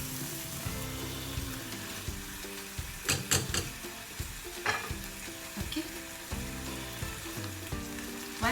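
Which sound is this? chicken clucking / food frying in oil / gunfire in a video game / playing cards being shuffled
food frying in oil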